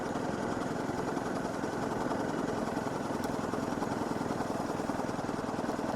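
Honda CRF250 Rally motorcycle engine lugging at low revs in sixth gear around 45 km/h on a slight uphill, a steady close drone with even pulsing throughout and no talk.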